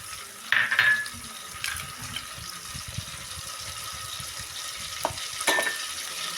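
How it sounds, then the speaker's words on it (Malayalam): Onions fry in hot oil left over from frying shallots, a soft, constant sizzle with the occasional clink and scrape of a spoon stirring the pan. "നമ്മൾ ആ ഉള്ളി പൊരിച്ച എണ്ണയിൽ തന്നെ നമ്മളിനി സവാള മൂപ്പിക്കാൻ പോവാണ്"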